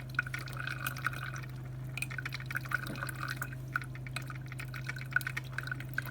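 A Black+Decker Farberware FCP240 stainless steel electric coffee percolator brewing, giving steady soft dripping and bubbling liquid sounds over a constant low electrical hum, close and moderately quiet with no talking.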